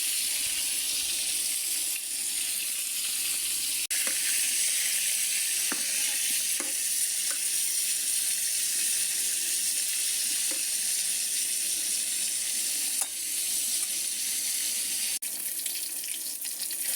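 Eggplant slices frying in a pan give a steady, even sizzle and hiss, close and fairly loud, with a few faint clicks and taps scattered through and no talking.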